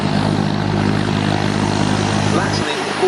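A Consolidated Catalina flying boat rolls for takeoff at the Duxford Battle of Britain Airshow, its piston engines and propellers droning steadily and loudly throughout before the low end drops away near the finish.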